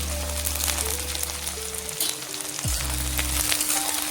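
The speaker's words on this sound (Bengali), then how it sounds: "এগুলোকে আমি এবার ফ্রাই করে নেবো।" Spring onion leaves and two small onions frying in a pan, a steady close sizzle with crackling throughout, over a low steady hum from the kitchen.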